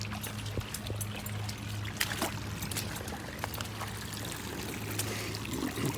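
Warm creek water flowing steadily through a park, a soft continuous trickle and gurgle at close range with a low hum beneath, no talk.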